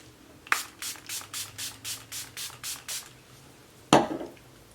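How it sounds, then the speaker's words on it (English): Makeup setting spray misted onto a face in a rapid run of about ten short, evenly spaced pumps, close and crisp, then one longer, heavier burst after a pause. "let me spray my makeup real quick"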